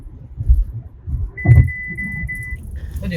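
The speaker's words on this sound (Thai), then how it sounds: "ตอนนี้ผมก็ มาถึง บ้านแล้วนะครับกำลังขับรถเข้าจอด" An MG HS PHEV rolls slowly into a home parking spot with a quiet, low drive rumble and soft bumps, joined by a steady high electronic tone that holds for about a second.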